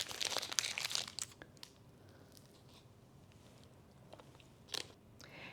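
Faint close crinkling of a wrapper followed by quiet chewing and crunching on an organic rolled oats snack, with a short burst of rustling near the end.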